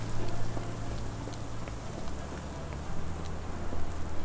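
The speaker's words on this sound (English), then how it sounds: "This dreary rain is making a miserable day even worse." Rain falls in the Sherlock Holmes: The Awakened video game as a steady, dense hiss of drops with faint scattered patters and a low ambient hum beneath, continuous and even, with no voices.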